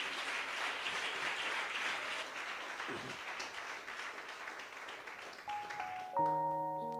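A church congregation applauds continuously at a moderate distance, a dense even patter of clapping that fades near the end as a soft tone enters.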